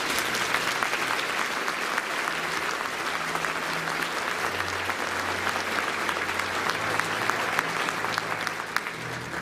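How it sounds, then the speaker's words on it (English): Audience applause at the Pennsylvania State Fair, a dense, steady wash of clapping from a large crowd that holds loud and even for the full stretch, with a faint low hum underneath. "So let's give them one more round of applause"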